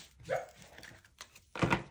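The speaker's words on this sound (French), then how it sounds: "Derrière, il fait dodo. Et il rêve qu'il aboie." A sleeping dog barks softly in its dream: muffled, whimpering yips early on, then a sharper, louder bark near the end, close by in a quiet room.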